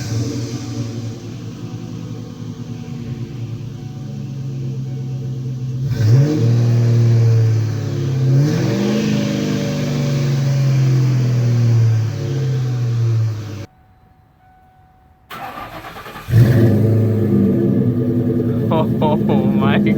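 A GT's engine fitted with an off-road H-pipe exhaust fires up and revs hard, deep loud bursts rising and falling, cutting out briefly before another roaring rev, with excited voices over it.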